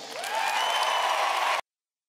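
Audience applause at a Bernie Sanders speech at Liberty University, a steady wash of clapping from a large crowd that swells quickly, holds evenly for about a second and a half, then cuts off abruptly into silence.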